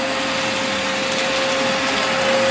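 A vacuum cleaner runs close by with a loud, steady whine and a sustained tonal hum, continuous throughout without pauses.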